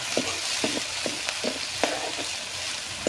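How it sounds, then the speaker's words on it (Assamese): A dried chilli and onion fry in oil, a steady close sizzle broken by regular scraping stirs and small crackles. "ভালদৰে ভাজি লওঁ"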